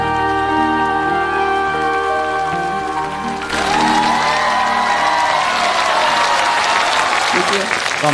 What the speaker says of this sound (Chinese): 我们热烈掌声30秒